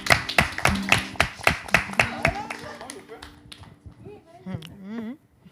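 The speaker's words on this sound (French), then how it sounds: "Applaudissez pour lui déjà." Rhythmic hand clapping from a small audience, about a dozen sharp, evenly spaced claps at close range, then tapering off as voices speak over the fading applause.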